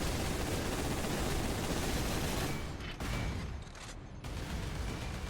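Gunfire in Warhammer 40,000 Space Marine: dense, continuous rapid bursts of loud shooting and battle noise, close by, easing briefly in short gaps before resuming.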